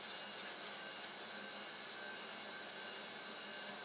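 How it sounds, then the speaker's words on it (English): A surface grinder works two matched steel V-blocks at once, giving a steady, even whirring grind with a faint high ringing edge, moderately close and constant throughout. "I'm going to grind both at the same time"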